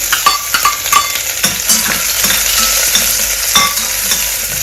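Crushed garlic and dry chilies frying in a pan, a loud close-up sizzle with quick rhythmic scraping and tapping of a spatula against the pan.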